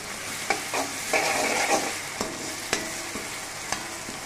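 Ginger-garlic paste sizzles and fries in hot oil for a spicy crab gravy while a spoon stirs, with occasional scraping knocks against the pan.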